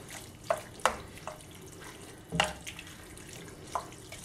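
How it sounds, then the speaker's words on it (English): Water pours into a pot of pasta in short uneven splashes and trickles, close by, with quiet gaps between the bursts and no speech. "we'll add some water so that we can have everything nice and covered"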